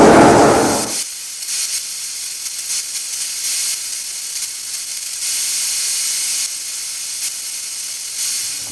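Paint spray gun laying another coat on a Ferguson TEA20 tractor in a cold workshop: a steady, close airy hiss runs almost throughout, with brief pulses as the trigger eases, after a short louder burst at the start.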